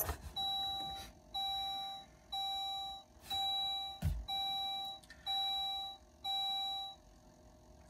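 A Saab car chimes repeatedly while a key is programmed with the ignition switched on: about eight evenly spaced electronic beep tones, each held for most of a second, clear and close, with no talking.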